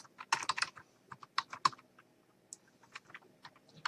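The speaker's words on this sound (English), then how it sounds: "sorry everyone that you can hear me typing" Quiet, irregular clacking of fingers typing on a computer keyboard, close by, with bursts of quick keystrokes and brief pauses, no voices over it.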